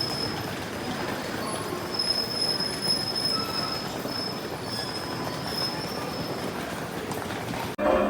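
An air-conditioned passenger train in Ukraine rolls along the rails with a continuous rumble, high wheel squeal and faint rhythmic clatter heard from inside the carriage, ending in a brief jolt.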